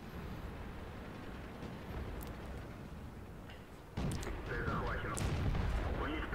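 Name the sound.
T28E F30 tank gun shot in video game World of Tanks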